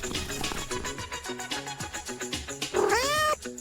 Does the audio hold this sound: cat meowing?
yes